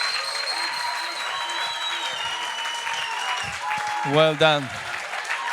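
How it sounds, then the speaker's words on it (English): Steady audience applause fills a live Saturday-morning sofa-session show from start to finish, with a voice briefly speaking over the clapping near the end. "Just give a round of applause"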